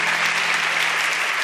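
A short burst of applause, with a fast, dense run of claps held steady for about a second and a half.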